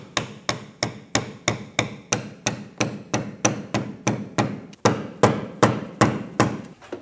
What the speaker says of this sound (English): Now I'm using a screwdriver and this mallet again to tap it in.